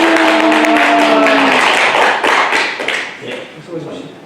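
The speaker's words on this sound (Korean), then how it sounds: "박수로 모시겠습니다" Audience applause welcomes a lecturer to a Won Buddhist Diamond Sutra lecture at an academy hall in Busan: loud, dense clapping that gradually thins and fades, with a held tone early on.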